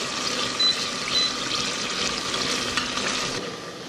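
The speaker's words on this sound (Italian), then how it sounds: "Sta sfrigolando, adesso verso tutti i broccoli nella pentola e lascio insaporire" Sauce poured into a pot for a pasta and broccoli soup sizzles and crackles steadily up close, a busy frying hiss that fades slightly near the end.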